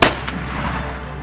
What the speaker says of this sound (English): All 3 shots was perfect.